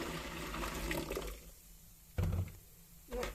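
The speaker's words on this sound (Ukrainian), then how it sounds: "А сюди теж заливаємо кипяток" Boiling water is poured into a container, a brief close splashing gush that stops and then resumes in short spurts.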